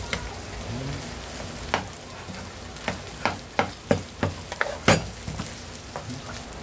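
Bagoong fried rice with alamang shrimp paste and rice being stir-fried in a pan, a steady sizzle broken by a run of sharp spatula scrapes and clanks against the pan, with no voices.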